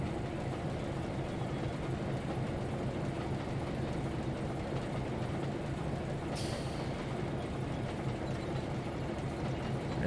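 A freight train labors on a grade with its train brakes applied, a steady, dense rumble and rolling noise filling the whole stretch, with a brief hiss of air near the end and no talking.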